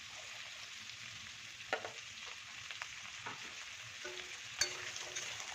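Eggplant pieces frying and being stirred in a pan, a steady close sizzle broken by scraping stirs and a few sharper clinks of the spatula against the pan.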